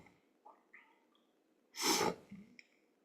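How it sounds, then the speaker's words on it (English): A single loud, explosive sneeze up close, preceded by a few small breathy intakes and followed by a soft exhale. "I had to sneeze"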